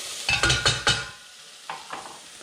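Rice is stirred in a hot pan: a quick run of four scraping, sizzling strokes, then a pause and three softer stirs, all close and without any voices.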